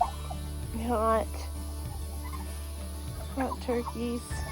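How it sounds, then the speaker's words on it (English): Eighteen turkeys in a pen on a hot day give several close bursts of gobbling and warbling calls over a steady low hum, with quieter rustling between the outbursts. "There are 18 turkeys in here"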